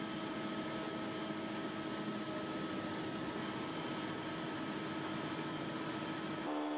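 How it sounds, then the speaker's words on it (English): A DMG Mori DMU75 monoblock 5-axis vertical CNC machining center cutting aluminum gives a loud, steady mechanical whir with constant tonal hum and broadband hiss, running without a break until it cuts off abruptly near the end. "DMU75 monoblock is a highly advanced 5-axis, vertical CNC machining center that excels in aluminum machining."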